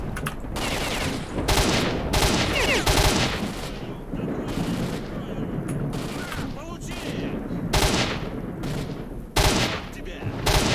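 Rapid bursts of gunfire from the video game S.T.A.L.K.E.R.: Shadow of Chernobyl, loud repeated volleys and single shots crackling close by, with the player talking over part of the fighting.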